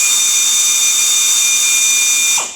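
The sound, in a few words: power drill running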